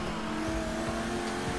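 Race cars roar through a video game passing challenge, engines droning steadily with layered harmonic whine and faint tire squeal, loud and continuous throughout.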